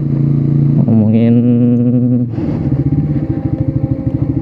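A motorcycle ridden on the road, its engine running steadily with a low pulsing rumble and a shift in tone midway, close and loud, with wind buffeting under it.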